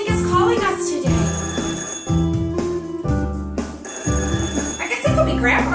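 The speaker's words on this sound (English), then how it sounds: "I hear the phone." A bell-type telephone rings indoors in a regular pattern of about five short bursts roughly a second apart, loud and near, while voices talk between the rings.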